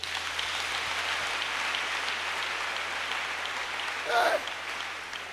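A church congregation applauds with a sustained, diffuse wash of clapping that holds steady across the space, heard at a moderate distance, with a brief voice rising near the end.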